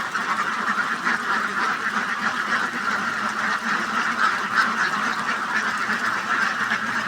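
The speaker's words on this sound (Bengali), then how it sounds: "অরিজিনাল খাকি ক্যাম্পেল হাঁস।" Khaki Campbell ducks quacking at feeding time in the evening, a dense, continuous chorus of loud nearby quacks from a flock.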